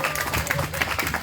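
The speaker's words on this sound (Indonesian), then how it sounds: "Tepuk tangan buat Kang Herdi." An audience at an Islamic sermon gathering claps for Kang Herdi, a brief burst of dense applause with crowd noise and some voices mixed in.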